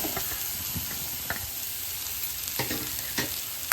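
Onion and capsicum sautéing in butter in a kadai for a paneer sandwich filling, a steady close sizzle broken by occasional spatula scrapes and taps, no one speaking.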